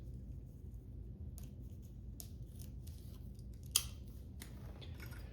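Scissors cutting expired photographic film, heard as a few faint, crisp snips over a low steady background hum, with one sharper cut standing out near the end.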